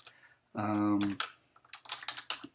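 Brief bursts of computer keyboard typing follow a short spoken sound, the keystrokes quick, close and light in an irregular patter.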